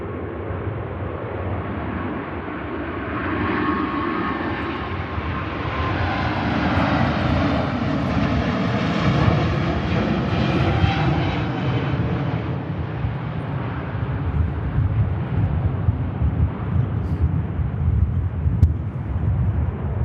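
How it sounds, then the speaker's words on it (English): Qatar Airways Airbus A350 roaring on takeoff at Manchester Airport, a loud, sustained broadband jet engine rumble that swells to a peak midway and holds steady, with no voices. "Here goes the stunning Qatar A350 heading out to Doha as flight Quebec Romeo 28."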